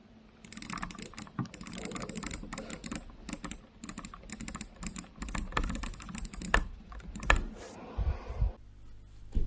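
A computer mouse is clicked very rapidly using the vibrate clicking method, producing dense bursts of fast, sharp clicks in uneven runs with brief gaps, close and fairly quiet.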